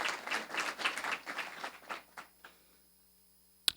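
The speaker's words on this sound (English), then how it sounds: "Let's give her a round of applause." Audience members at a school district State of the District address clap in a brief, moderate round that thins into scattered claps and dies away after about two and a half seconds, followed by one sharp tap.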